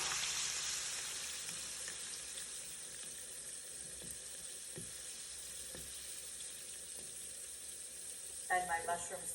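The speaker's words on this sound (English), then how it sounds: "now to this pan, I'm just going to add 1/2 cup of my reserved pasta water" Reserved pasta water poured into a hot pan, giving a steady sizzling hiss that fades to a quieter simmer, with a brief clatter near the end.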